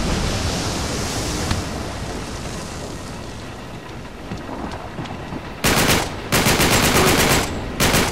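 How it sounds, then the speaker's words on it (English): Gunfire in Uncharted 3: a bed of rumbling battle noise, then loud, rapid bursts of close automatic shots in several long strings near the end, with no talking. "Volume of shots works."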